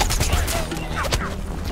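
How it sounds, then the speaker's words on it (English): Gunfire in Plants vs. Zombies: Battle for Neighborville, a dense, steady fusillade of rapid shots over game noise for under two seconds, loud and continuous. "Stop shooting me. I'm shooting this other guy."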